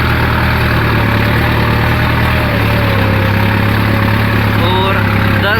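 Tractor engine held at about 1000 to 1200 RPM in a high gear for soybean sowing, a loud, constant low rumble with a steady mechanical drone, close by with a voice talking over it.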